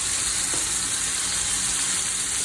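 Steak frying in butter in a hot pan, a loud, dense, steady sizzle with crackling spatter close by.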